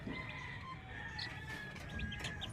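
Hens clucking over a steady outdoor background, with soft chirpy calls and a few sharper cackles scattered through, moderately distant.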